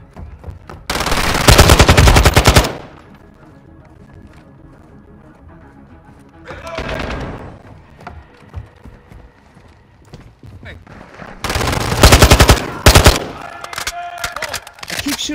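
Loud, close bursts of automatic weapon fire in Call of Duty Modern Warfare 2, coming in several separate volleys with quieter stretches of game noise between them.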